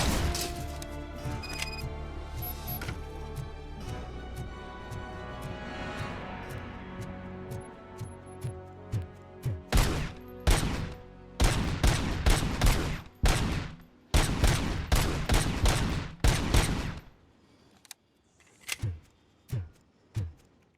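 Gunfire in the video game RoboCop: Rogue City, starting with scattered shots over game music and sound effects, then turning into a loud, dense barrage of rapid bursts, ending in several separate heavy shots.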